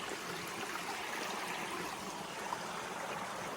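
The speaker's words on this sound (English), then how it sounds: "Here's our creek." A small creek in a garden with native yew and big leaf maple trees flows steadily, a soft even rushing wash with no voices.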